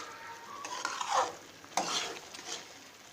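Chickpeas frying and being stirred in a pan: a few distinct spoon-scraping strokes over a soft, continuous sizzle, close and moderately loud, without any voices.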